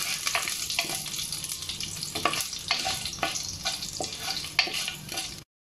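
Split dried red chillies fry with urad dal in hot oil in a pan, giving a steady close sizzle broken by sharp crackles and spatters, alone with no talk.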